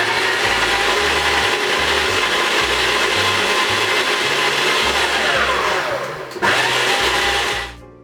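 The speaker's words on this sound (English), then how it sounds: "I like to use a food processor because I like to do things properly." A food processor blends butter for a pear tart crust, a loud, steady, close motor whir with a rough churning texture that runs for several seconds, dips briefly, resumes, then cuts off near the end.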